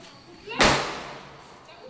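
One sharp, loud bang of a leftover Diwali firecracker bomb bursts suddenly and fades quickly, with faint background noise before and after.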